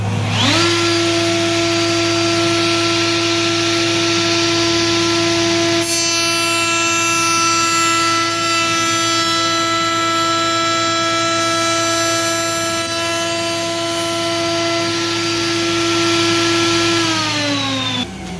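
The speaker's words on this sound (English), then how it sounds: "So, dust collector on, router table on." A woodworking router table runs alongside a dust collector while cutting cabinet doors, a loud, steady high-pitched motor whine over a constant low roar, with the tone shifting slightly under load before spinning down at the end.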